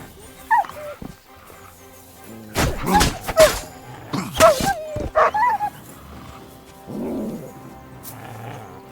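Mutt the dog in Kingdom Come Deliverance 2 gives several sharp barks and yips with whimpering in between, close by, in irregular bursts over a quiet background.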